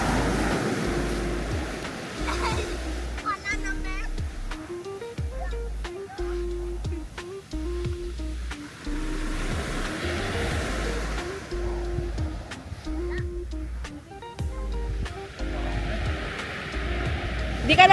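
Ocean waves rolling onto a beach during a family outing at Dinadiawan Beach, a steady broad wash of surf with wind, while music and people's voices carry over it throughout.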